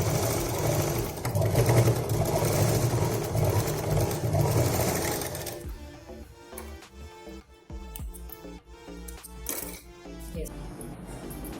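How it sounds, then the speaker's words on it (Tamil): A home sewing machine stitches a purse with a dense, steady mechanical whirr for several seconds. It then slows into lighter clicking and rattling of the needle and fabric, with no voices. "இங்கேருந்து இங்கே வரைக்கும் ஒரு தடவை தையல் போட்டு எடுத்துக்கலாம்."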